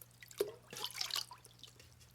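Water dripping through a 3/16-inch hole in a large Solo cup onto plants in garden rows, a few soft, close patters and splashes with faint trickling over a low background hum.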